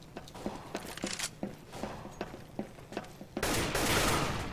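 AK rifle gunfire in a Counter-Strike match on de_mill, fired in several short bursts of sharp, evenly spaced shots at close range, then a louder, denser burst of noise near the end.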